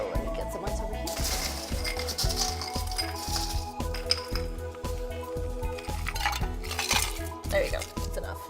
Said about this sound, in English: And now we are gonna add some ice.